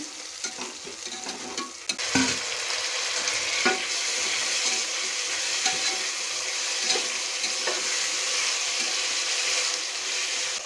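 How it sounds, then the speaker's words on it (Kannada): Ingredients for chicken biryani fry in a pan, a continuous loud sizzle with occasional stirring scrapes throughout and no talking. "ಈ ಥರ ಫ್ರೈ ಮಾಡಬೇಕು ನೋಡಿ ನೀಟಾಗಿ ಫ್ರೈ ಆಗ್ತಾಯಿದೆ"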